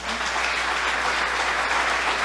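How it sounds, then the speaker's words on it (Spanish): Church congregation applauding the Lord during a Spanish-language Christian sermon, a loud, continuous burst of many hands clapping together in a reverberant hall. "Aplaudamos al Señor."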